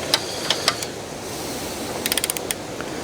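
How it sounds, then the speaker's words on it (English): Uyecove torque wrench tightening a bolt: a few sparse ratcheting clicks early on, then a quick cluster of sharp clicks near the end as the handle breaks over, close and crisp against steady background hiss. "And you should hear any minute now the handle click."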